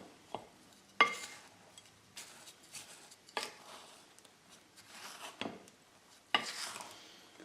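Dry ingredients for a clootie dumpling are stirred in a bowl, giving quiet scraping and knocking from the spoon in irregular bursts, with a few sharper taps against the bowl's side.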